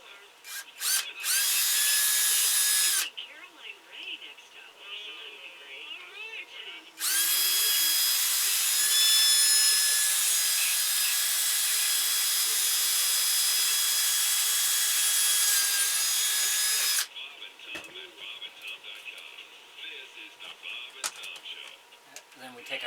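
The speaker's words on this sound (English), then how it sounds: "drill a hole in that end, and then we drill a hole in the bottom." A power drill bores holes into a wooden ventriloquist dummy head, running in two long loud whining stretches separated by quieter handling and scraping noises.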